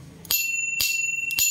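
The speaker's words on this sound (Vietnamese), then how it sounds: "Chuông kêu to đùng luôn." An antique bicycle bell rings loudly three times, each sharp metallic strike leaving a bright sustained ring that carries between the hits.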